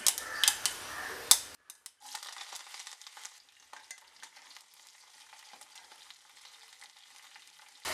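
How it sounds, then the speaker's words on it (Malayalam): Mustard seeds, fenugreek, garlic and curry leaves drop into hot oil for a Kerala moru kachiyathu tempering, giving a steady close crackle and sizzle with scattered pops after a brief louder stirring start. "എണ്ണ ചൂടായി വന്നിട്ടുണ്ട് അതിലേക്ക് അര ടീസ്പൂൺ കടുകിട്ട് കൊടുക്കുക ഒരു പിഞ്ച് ഉലുവയും കൂടി ഇട്ട് കൊടുക്കുക"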